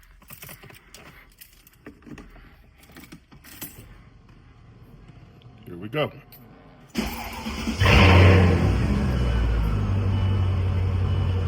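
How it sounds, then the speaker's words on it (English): A Mercedes-Benz car engine cranks and fires up partway through, then settles into a loud, steady idle after some quiet cabin shuffling and jingling keys; someone speaks briefly before it starts. "Start her up."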